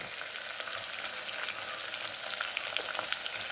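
Onions with salt fry in a pan for a fish curry, giving a steady, close hiss of sizzling oil with small crackles and light stirring ticks throughout.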